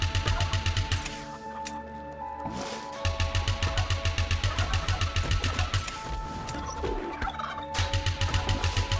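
Turkeys gobble loudly in the video game Riverbond, a rapid rattling gobble that runs almost continuously with a brief pause, layered over game music and effects.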